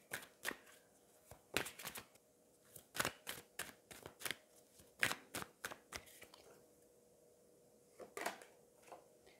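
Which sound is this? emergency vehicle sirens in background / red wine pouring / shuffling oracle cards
shuffling oracle cards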